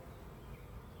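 Honey bees flying around an open hive during an inspection, with foragers bringing pollen in; a dense, steady buzzing hum holds evenly throughout, with no talking.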